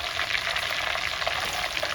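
Garlic fries in oil for a shallot and garlic kara kuzhambu, giving a continuous close, even sizzle over a short stretch with no voices.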